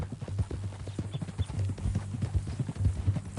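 Horse hooves clip-clopping in the video game Red Dead, a steady rhythmic trot close by, fairly quiet, with faint music or ambience beneath.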